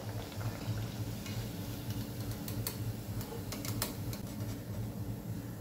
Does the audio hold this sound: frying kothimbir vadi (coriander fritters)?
yes